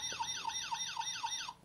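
Sound-activated siren of the Sirender toy robot, a close, faint electronic wail rising and falling five times in quick, regular cycles before cutting off.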